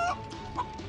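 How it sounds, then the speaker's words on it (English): A chicken in the video game Wildcraft gives two short clucks about half a second apart. They are quiet and close, with no talking. "This one is a female chicken."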